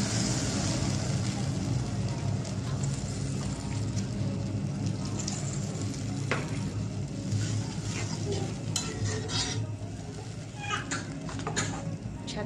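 Steady sizzling and bubbling of masala in a pan after water is poured in, continuous and close, with a faint stir or scrape now and then and no voices over it.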